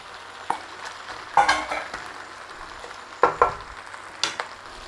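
Cabbage dropped into a pot of rustic peasant cabbage and potato soup with dried thyme and rosemary, giving bursts of close, moderate sizzling and rustling stirs in a few separate splashes, with no talk.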